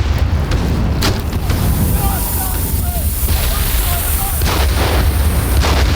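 Artillery strikes fire in a WWII strategy video game, with dense rumbling booms and bursts layered over constant loud battle noise while someone talks over them.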